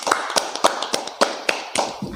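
An audience at a humorous Q&A session claps in unison, loud, evenly spaced claps continuing steadily throughout, with a brief low thump at the end.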